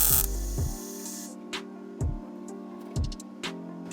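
Short bursts of spot or MIG welding popping holes in thin ground-down car wheel well sheet metal in a driveway, a loud crackling blast at the start followed by three brief sharp zaps spaced about a second apart over a steady hum.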